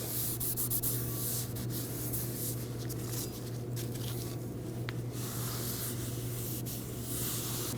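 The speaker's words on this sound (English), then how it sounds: "We're going to just use some brake cleaner on a rag. And we'll wipe up the pad surfaces of the rotor" Brake cleaner is sprayed onto a rag, then rubbed over the pad surfaces of a brake rotor from a 1993-2001 Subaru Impreza, giving a continuous close-up scrubbing and hiss over a steady low hum.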